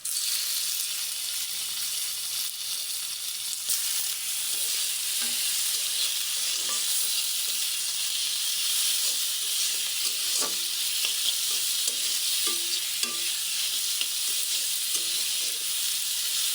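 Meat sizzling and frying in a pan for momo filling, a steady bright hiss with occasional stirring scrapes and soft clinks throughout, no talking.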